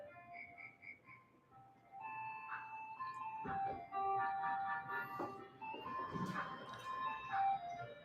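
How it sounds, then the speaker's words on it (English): A chiming melodic jingle from an ice cream truck plays as a looping tune outdoors at moderate distance, fairly soft, with no talking over it. "Is that an ice cream truck or is that what happened because of the drilling?"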